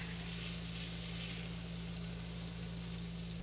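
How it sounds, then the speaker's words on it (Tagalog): Butter, two sticks, melting in a hot pan gives a steady, even sizzle with a faint hiss, close and continuous throughout. "Okay, mainit na yung ating kawali. Lalagyan na natin yung ating butter."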